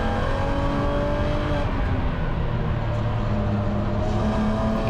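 BMW E9X Spec race car lapping Gingerman Raceway in a Gridlife GLTC race, engine droning loud and steady from inside the cockpit through slower corners, with faint tire scrub under the engine noise.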